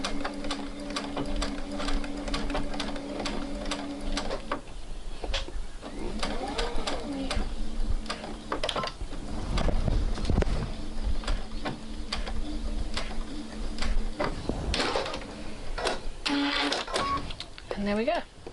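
A sewing machine stitches a New Look 6575 dress seam in several short runs, with clicks and handling noises in between and a person talking over parts of it.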